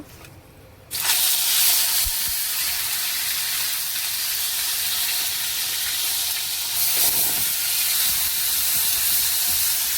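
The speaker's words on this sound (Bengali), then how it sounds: "আর এখানে পেঁয়াজ, টমেটো আর আদা রসুন বেটে রেখেছি, এটা দিয়ে দেব।" Onion, tomato and ginger-garlic paste hits hot oil with tempered spices for chole masala, a sudden loud sizzle that settles into a steady, close frying hiss with a brief swell partway through.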